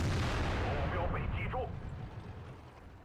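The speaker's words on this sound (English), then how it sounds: "So we put a big shot there into that KV-3." IS-2 heavy tank firing its cannon in the video game World of Tanks, a loud booming shot that rolls off into a decaying rumble, with a voice briefly talking over it.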